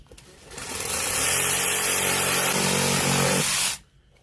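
A downspout riser is cut to fit with a power saw: a loud, harsh cutting roar builds over a second, holds steady for a few seconds, then stops abruptly, close by and with no talking.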